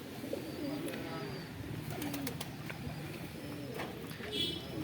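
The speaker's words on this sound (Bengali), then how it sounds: "মিষ্টির দোকানের ছাদের মাথাতেই আমার এই পায়রার লফট" Pigeons coo softly and repeatedly in a rooftop pigeon loft above a sweet shop near a bazaar, with steady background noise and faint voices around them.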